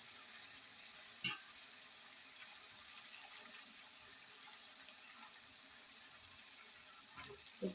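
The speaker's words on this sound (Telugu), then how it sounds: "ఇప్పుడు మనం ఇందాక చికెన్ వండిన దానిలో కుక్కర్లో మిగిలిన వాటర్ అండి ఇది. ఈ వాటర్ అయితే వేసేసుకుంటున్నాను." Leftover chicken cooking water is poured from a pressure cooker into a cooking pan in a home kitchen, a soft, steady watery hiss with a couple of faint clinks, fairly quiet throughout.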